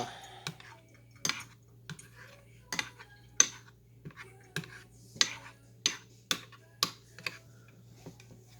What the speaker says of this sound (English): I'm gonna mix this all up now